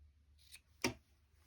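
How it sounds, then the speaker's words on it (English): A pair of scissors snipping paper binding for a memory pouch: a faint snip followed by one sharper, louder cut in a quiet room. "this is where I'm just going to cut that now"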